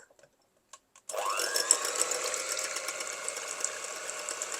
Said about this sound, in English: So going to start whisking.